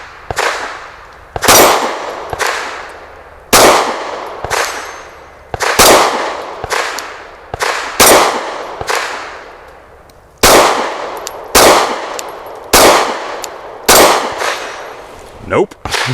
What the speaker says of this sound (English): here's my go with 8 rounds of the same ammunition